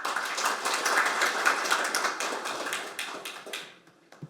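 An audience at a seminar applauds, a dense patter of many hands clapping at once that holds steady, then thins and fades away at the end.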